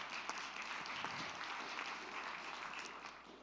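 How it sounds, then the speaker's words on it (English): Audience applause at a school board meeting, a dense, even patter of clapping from a room of people, moderately faint and tapering off by the end. "If we can get a round of applause for her as well."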